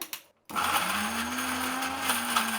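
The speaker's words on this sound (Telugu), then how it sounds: "ఇప్పుడు మిక్సీ పట్టేద్దాం" After a brief pause, a mixer grinder whirs to life, running loudly and steadily with a high motor whine, close by, no talking.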